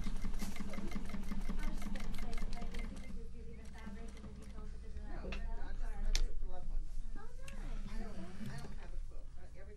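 A Juki 1541s industrial sewing machine stitches with a rapid, even mechanical clatter that pauses briefly and resumes, close and moderately quiet, while a voice talks over it.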